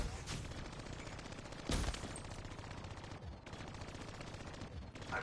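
Rapid gunfire rattles in a Black Ops 3 multiplayer match, fairly quiet bursts of automatic shots with one sharper, louder shot cracking out partway through.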